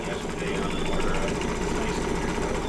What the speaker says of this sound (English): It's nice to hear the machines going.